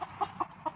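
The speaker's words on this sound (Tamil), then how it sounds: "இங்கே பாருங்கள், நம்ம வீட்லேயே வளர்க்குற கோழி" A home-raised chicken gives four short, quick clucks in under a second, close by and fairly quiet.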